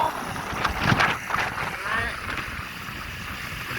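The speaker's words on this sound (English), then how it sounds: "Pretty cloudy out, very windy." Strong wind on a cloudy day gusts and rumbles against the microphone outdoors between two houses during pressure washing of a house's north side, with a heavy, uneven roar throughout.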